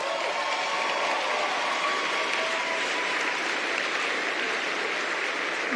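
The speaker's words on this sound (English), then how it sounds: "is that fake clapping?" Applause from a church congregation during a sermon, a dense, steady wash of clapping held at an even level throughout, with no voices over it.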